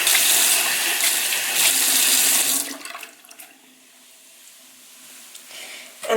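Water from a tap splashes loudly onto a brush cleaning mat for a few seconds, then cuts off and leaves only a faint drip and quiet room sound.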